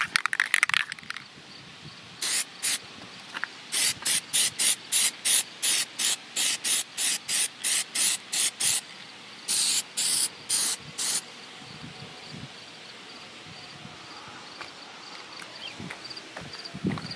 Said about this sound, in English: You want to give it a couple sprays to get the nozzle cleared out in between coats